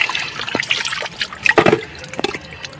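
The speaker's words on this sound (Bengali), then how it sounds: "পুকুরে স্নান হচ্ছে" Water splashing and dripping as a small child is bathed in a pond, irregular close splashes and trickles in short bursts.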